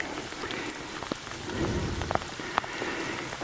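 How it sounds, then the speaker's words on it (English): Rain falling steadily during a hike on the Kaiser Trail, a close, dense patter with a few sharper drops landing nearby, with no voices. "No noise, just the sound of the rain."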